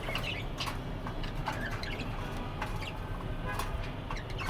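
Pet pigeons being fed make faint, scattered clucks and chirps against a quiet indoor background, with no talking.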